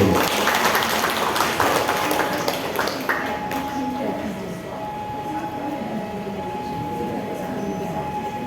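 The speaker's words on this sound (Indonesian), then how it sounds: "Tepuk tangan untuk kita semuanya dulu." Audience clapping at a school parenting seminar, a loud burst of many hands at the start that tapers off into quieter room noise with a steady tone, with talk mixed in.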